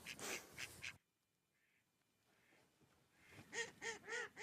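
Close, loud quacking from ducks in a calm spot, a burst of calls, a near-silent pause with faint distant sounds, then another rapid run of quacks.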